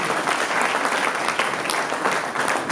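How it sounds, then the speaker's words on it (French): An audience at a Zik+ Show All Stars music event applauds as the show opens, close dense clapping with a few cheers. "Pour vous-même, les acclamations en début de cette émission."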